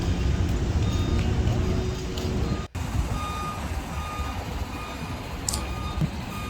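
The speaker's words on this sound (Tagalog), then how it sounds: "Ngayon may dumating palang sasakyan ngayon na karga-karga nitong semento." A truck arriving with a load of cement at a flood control construction site in Marikina beeps steadily while reversing, its engine rumbling close by amid busy site noise.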